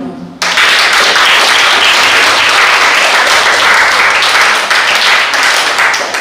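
A concert audience breaks into dense, loud applause that starts abruptly and holds steady throughout, filling the hall.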